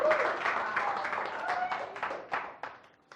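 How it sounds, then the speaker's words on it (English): Audience applause during a motivational presentation, a dense patter of clapping that swells and fades with a few sharper claps near the end, with a voice talking over it. "Yes, you can clap."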